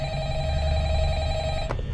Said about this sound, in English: the phone ringing, the phone ringing